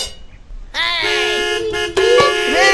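A vehicle horn blares close by in two sustained, loud tonal blasts: the first starts after a brief quiet moment, and a second, stronger blast follows about a second later.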